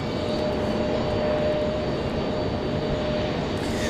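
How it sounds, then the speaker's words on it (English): A United Airbus A319 jet at Raleigh-Durham airport hums with a steady engine roar and a faint tonal whine on a gusty day, constant and fairly close throughout. "So a little United A319."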